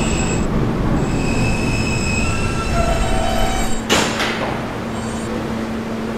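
An R160 subway car on the B train runs along the track with a steady rumble, high squealing wheel tones that rise and fade, and a sharp rattling burst partway through.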